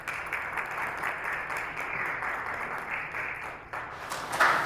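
Steady applause from an audience at a business society talk on identity theft, welcoming a guest speaker; dense, continuous clapping at moderate distance that swells slightly near the end.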